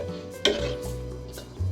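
A utensil stirs aloo matar pulao mixture in a pot, with a sharp scrape and clink at the start and soft sloshing scrapes after, close and fairly quiet.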